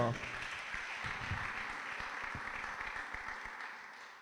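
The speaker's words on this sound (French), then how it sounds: "2 acclamations pour l'artiste." Audience applause for the artist at a live music show, a faint, even patter of clapping from a crowd, steady throughout and tapering slightly at the end.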